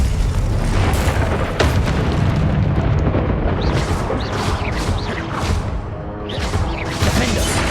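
Confringo fire spell blasts in the video game Hogwarts Legacy, a dense run of booming explosions and whooshes layered over continuous loud game noise.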